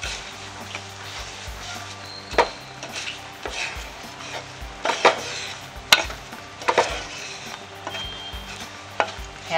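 Puffed amaranth halwa with ghee is stirred in a pan, giving soft scraping strokes and irregular spoon knocks against the metal at a moderate, unhurried pace, with no talk.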